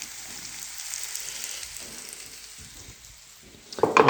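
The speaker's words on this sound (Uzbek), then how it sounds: "Kolbasani cho'chiveramiz ustidan. Buni ham biroz qovuramiz." Sausage fries in a pan with a soft, steady sizzle that fades slightly mid-way, then a louder crackling burst near the end as something is stirred or added.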